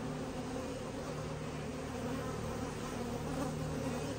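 Honey bees at a backyard hive drawing comb, a dense continuous buzz of many insects close by, steady and unbroken throughout with no voices.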